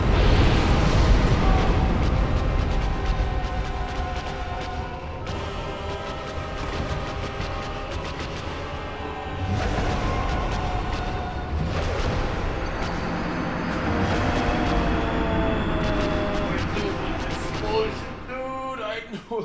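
Loud, dense rumbling explosions and roaring fire during a boss fight in a video game, a continuous blasting barrage with crackling bursts that shifts in waves and ends in a sharp clatter.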